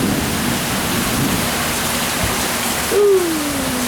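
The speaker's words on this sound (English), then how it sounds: "it's raining too hard" Heavy rain pours down steadily outside a porch, a dense constant wash of noise for the whole stretch, with a brief tonal squeak rising near the end.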